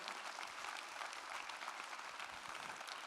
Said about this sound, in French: Un tonnerre d'applaudissements pour toutes ces championnes et ces champions.